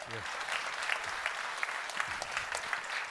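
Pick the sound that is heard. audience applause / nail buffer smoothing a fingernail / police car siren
audience applause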